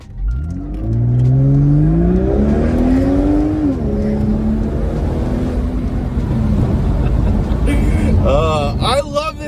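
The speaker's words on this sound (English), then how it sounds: "I can't leave you without a little bit of Polestar exhaust." A Volvo C30 Polestar's exhaust revs hard, rising through several loud climbing pulls with a deep throaty drone and a crackling finish, close and dominating.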